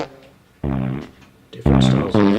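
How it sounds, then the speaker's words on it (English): Fart sound effects played back from the Wavey app, producing a few short, buzzy, tonal blasts of varying length, loud and close, one after another with brief gaps. "different styles of farts even."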